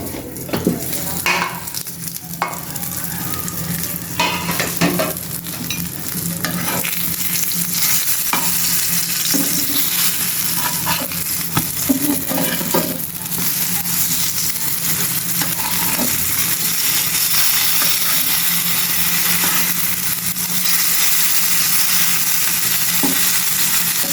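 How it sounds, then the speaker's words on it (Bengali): Eggplant fritters fry in a pan with a loud, continuous sizzle throughout, overlaid with frequent clinks and scrapes of a utensil against the cookware. "এদিক দিয়ে বেগুনের বড়া ভাজতেছি দুপুরের জন্য"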